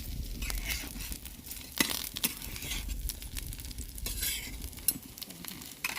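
Papaya and lentils sizzle steadily in a hot pan while a utensil scrapes and turns the pieces, with occasional light clinks of metal.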